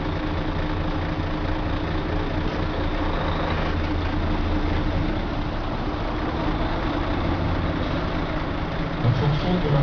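A fire engine rolls by in a fire brigade parade in Velaux, a GRIS unit carrying a 6000-litre CCF tanker with a water cannon, its heavy diesel rumbling steadily and close throughout with a constant low drone.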